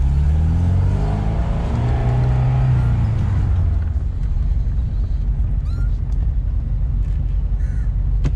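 A 1989 Toyota Corona GLi 2.0 with a manual gearbox drives close by, its engine rumbling steadily and loudly over a high-speed hump with a gear shift, while faint road noise and bird calls sit in the background.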